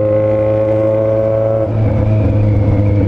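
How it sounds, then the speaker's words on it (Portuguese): A white Lamborghini-styled car accelerating, its engine a loud close steady drone that pulls upward in pitch partway through as the revs climb, with no talking over it. "Eu vou acelerar aqui porque eu não sei onde tem radar, tio."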